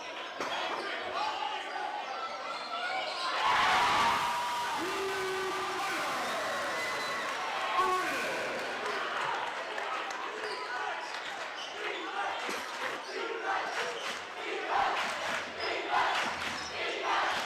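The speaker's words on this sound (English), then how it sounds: "Give you a little crowd action" Crowd noise at a high school boys basketball game between Staples-Motley and Aitkin in Minnesota, a steady roar of cheering with a swell around four seconds, mixed with squeaks and bounces and a commentator talking over it.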